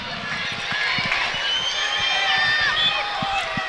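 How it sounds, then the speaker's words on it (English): A crowd cheers at a ladies' Gaelic football county final in Dublin, a loud, continuous roar of voices and shouts carrying across the ground, with rhythmic thuds underneath. "you can hear the crowd getting behind them"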